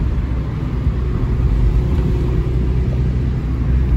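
A lowered Honda car creeps over rough ground, its cabin filled with a steady, loud low rumble and engine drone, with no voices over it.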